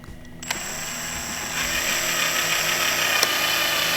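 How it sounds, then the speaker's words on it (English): A power drill bores into the plastic panel of a Ski-Doo Gen 4 snowmobile while an accessory light is being installed, starting with a click and then whirring steadily and loudly close by. "go ahead and start drilling."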